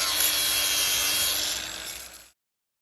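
Power tool stripping rust and paint from a Kenworth W900L truck part, a loud harsh grinding whir that holds steady and then tapers off abruptly into silence.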